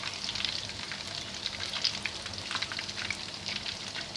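Chandan kebabs deep-fry in hot oil, giving a steady, close, crackling sizzle that runs unbroken throughout with no talking.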